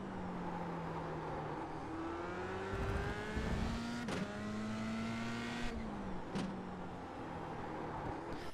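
Formula 3 race car in the iRacing simulator drops from third to second gear, its engine note stepping down with sharp blips and a steady droning whine, loud and continuous throughout.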